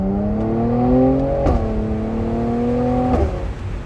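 A 2019 Mercedes-AMG C43's engine revs hard as the car accelerates, its rising drone cut by two quick gear shifts, loud and close with the sunroof open.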